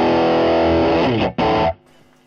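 Electric guitar played through a Marshall BB-2 Bluesbreaker 2 overdrive pedal, loud dirty chords that ring out with a brief cut in the middle before a sharp stop.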